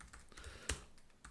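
A few quick keystrokes on a computer keyboard as a command is typed, faint light clicks with one sharper tap in the middle, alone and without talking.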